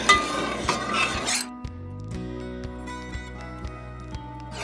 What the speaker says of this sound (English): we just put that in low heat and mix them